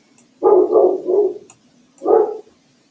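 A dog barks nearby, three quick woofs in a row, a short pause, then one more bark.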